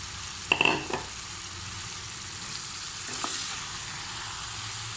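Fried okra added to sizzling fried onions in oil for an okra curry, a steady moderate frying hiss with a few sharp clatters and stirring knocks near the start and again midway.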